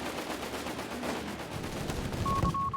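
Light machine gun and carbine fire trade back and forth in a Company of Heroes 3 battle, a dense stream of rapid distant bursts at moderate volume without a break.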